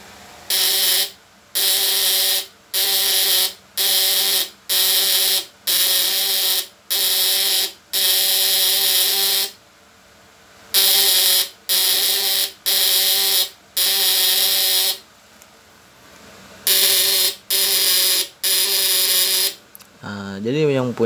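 A platinum electric stunner rated 200-400W buzzes loudly in repeated short on-off bursts, a harsh electric drone cutting in and out about once a second, with a brief gap midway and a final crackle.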